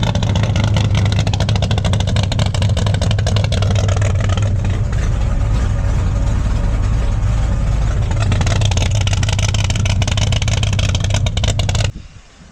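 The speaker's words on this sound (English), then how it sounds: "I did a little bit of tuning on it, and it's finally idling." A big block V8 in a 1974 Plymouth Scamp idles with a steady, loud, lumpy rumble and slight unevenness, cutting off abruptly at the end.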